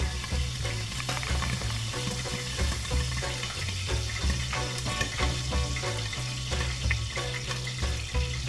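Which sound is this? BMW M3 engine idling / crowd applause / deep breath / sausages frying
sausages frying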